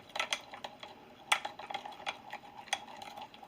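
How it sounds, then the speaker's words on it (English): A spoon clinks and scrapes against a bowl while homemade yum yum sauce with lime is stirred, giving light irregular taps and a few sharper clicks, close and quiet with no talking. "go ahead and stir it."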